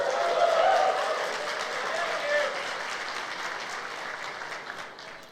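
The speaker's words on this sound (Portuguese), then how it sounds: "Não vão aplaudir agora e dizer uhul!" A church congregation applauds steadily, a broad wash of many hands clapping that holds for several seconds before slowly thinning out, with voices mixed in.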